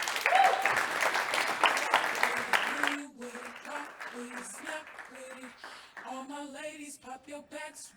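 Audience applause for a speaker at a tech conference talk, a loud dense burst of clapping for about three seconds that cuts off, followed by someone speaking alone.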